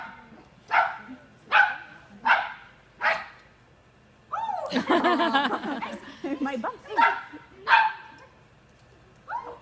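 A pet dog, a female, gives a series of sharp, evenly spaced barks during a training session, then a burst of busier noise and more barks, close by with a person's brief speech and laughter in between.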